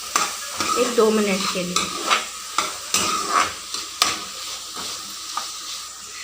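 Vegetables and sweet corn for a red veggie pasta stirred and frying in a pan, a steady close sizzle broken by repeated spatula scrapes and clinks against the pan, with a brief voice speaking early on.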